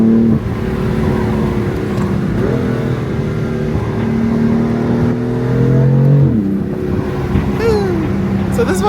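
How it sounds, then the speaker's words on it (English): A BMW F82 M4 with a DCT gearbox pulls hard through its gears, heard loud from inside the cabin as the engine note climbs and then drops quickly at each shift. "The way that it just accelerates, because when you're in the power band and then you just grab the next gear"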